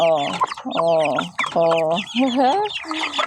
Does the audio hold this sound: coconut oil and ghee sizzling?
no